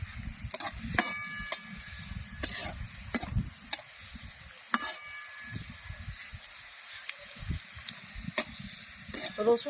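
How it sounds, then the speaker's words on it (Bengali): Dried red chillies and garlic sizzle steadily in mustard oil while a utensil scrapes and clinks against a pan several times at irregular intervals, fairly close. "আর শুকনো লঙ্কা হালকা হালকা ভাজা হয়ে গেছে"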